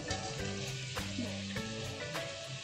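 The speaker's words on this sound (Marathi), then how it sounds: "आता गॅस मोठा ठेवून मी चांगली परतून घेते." Tripe (vajdi) sautéing over high heat in roasted masala with onion, a steady close sizzle broken by periodic clanks and scrapes of a spoon against the pan.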